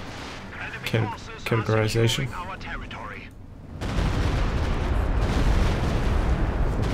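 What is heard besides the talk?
explosions in the video game Company of Heroes 2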